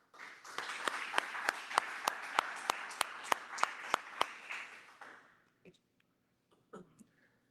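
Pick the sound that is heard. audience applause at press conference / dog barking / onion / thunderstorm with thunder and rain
audience applause at press conference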